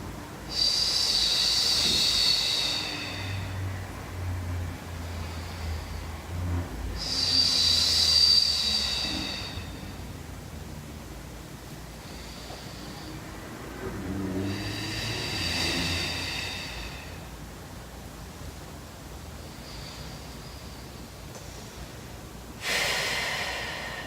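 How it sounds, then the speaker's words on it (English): Slow, deep Pilates breathing: four or so audible airy breaths spaced several seconds apart, close and clear, with quiet between them and no speech. "Let's just take 3 more breaths like this together."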